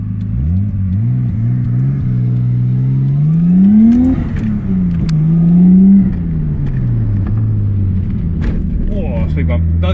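Nissan R32 Skyline with an RB25DET engine, heard from inside while driving, its engine note rising under acceleration and easing off through gear changes, loud and steady, with speech over it.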